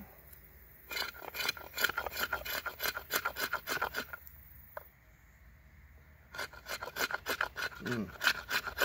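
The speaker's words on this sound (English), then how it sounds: "see if we can't scrape a little bit of it off" A Bark River JX5 knife blade scrapes repeatedly across a hard material, quick rasping strokes in steady bursts, pausing briefly midway before resuming, close and crisp with no talk.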